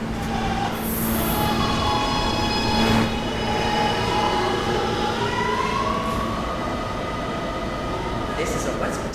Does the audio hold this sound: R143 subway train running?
yes